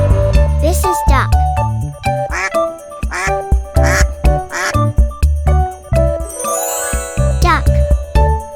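A duck quacks several times in a children's farm animal learning piece, mixed with cheerful background music and a voice.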